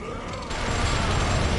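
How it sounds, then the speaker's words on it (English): Gunfire in the video game Bloodborne, in the Forsaken Cainhurst Castle area: a sudden loud burst of blasts and clattering that fills the rest of the moment. "And I ran right into gunfire."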